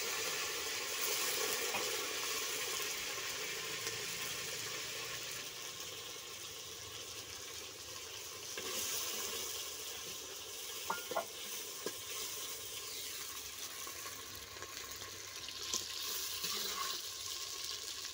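Onion with spices fries in oil for a family lunch dish, a continuous broad hiss and bubbling sizzle with a few faint clinks of stirring.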